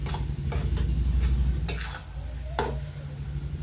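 Adadiya mixture of flour in ghee being stirred steadily in a pan, with a continuous scraping, sizzling churn and a few sharper utensil knocks against the pot, close and fairly loud.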